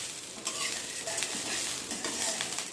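Curry leaves sautéing in a pan make a close, continuous crackling sizzle, broken by repeated scraping and tapping strokes of a spoon stirring.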